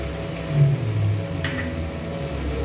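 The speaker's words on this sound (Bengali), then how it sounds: "এবার আমি এর মধ্যে দিয়ে দিলাম টমেটো কুচি" Chopped tomato dropping into karela frying in hot oil in a pan, giving a steady moderate sizzle that swells briefly as the tomato goes in, with no voices.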